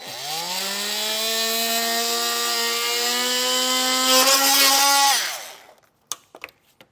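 A power tool cuts a rectangular opening for a Blue Ox base plate on a 2019 Chevrolet Traverse, a steady high-pitched whine with rising harmonics lasting about five seconds, then winding down, followed by a few faint clicks and knocks.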